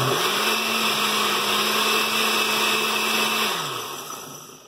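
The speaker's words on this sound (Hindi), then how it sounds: "इसको मैं 1-2 दफ़ा ग्राइंडर में चला के इसको बारीक करके फिर हलीम में मिक्स कर दूंगा" A kitchen grinder whirs loud and close as it grinds soaked instant oats for chicken haleem, a steady motor drone that holds, then winds down at the end with no talking.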